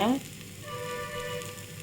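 Dosa batter sizzling on a hot pan, a brief loud splash of frying at the start settling into a steady soft hiss close by.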